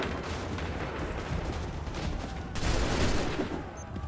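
Musket volley fire in the video game Assassin's Creed III, a dense, continuous roar of massed gunshots with a louder surge partway through, close and loud, with no clear talking.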